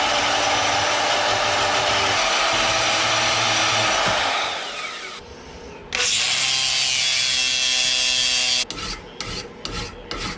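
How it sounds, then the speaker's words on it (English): A bandsaw cuts through a piece of soft 6202 bearing metal with a loud, continuous grinding rasp. The cut eases off midway, resumes, then breaks into short choppy bursts near the end. No one speaks. "I'm going to use my bandsaw and kind of cut it"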